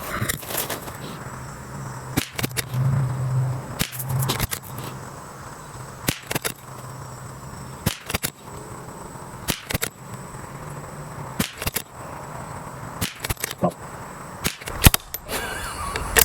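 Aguila subsonic 40-grain .22LR rounds fired from a rifle outdoors: a series of sharp, fairly quiet cracks spaced a second or two apart, some in quick pairs, over a steady background hum.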